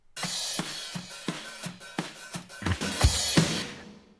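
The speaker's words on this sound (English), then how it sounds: "I copied the overheads and I got some pumping compression on it." Drum overheads with pumping compression: drum hits ring through roomy cymbal wash that swells and ducks after each strike, giving a breathing, pumping feel; no voices.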